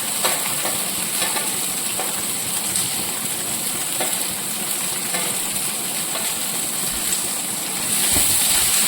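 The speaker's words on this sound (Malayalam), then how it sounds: "ഇത് നമുക്കൊരു ഗോൾഡൻ കളറാവുന്ന വരെ ഒന്ന് വഴറ്റിയെടുക്കാം" Chopped onions sautéing in a hot pan for a soy dry roast, a steady close sizzle and crackle with occasional stirring scrapes throughout, no voices.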